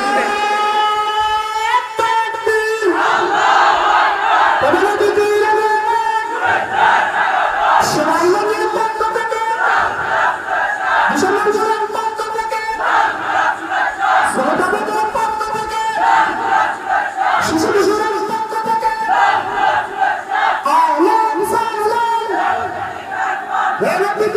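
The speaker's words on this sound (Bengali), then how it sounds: "একটা তাকবীর দাও একটু জোরে" Large crowd loudly chanting takbir at an outdoor gathering, voices rising together in repeated, sustained call-and-response waves that fill the space, forceful and continuous throughout.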